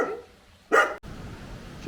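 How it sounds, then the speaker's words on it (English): Several dogs near an old derelict church give a sharp, loud bark burst, then go quiet as faint outdoor background continues. "Just come across this old derelict church and we just set off a load of dogs."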